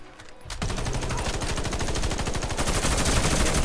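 Rapid automatic gunfire in the online shooter Warface, a loud continuous burst of tightly spaced shots that starts after a brief quiet moment and keeps hammering without pause.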